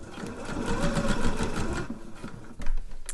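A domestic sewing machine runs steadily, stitching a seam on a jersey dress, with a slight change in pace near the end.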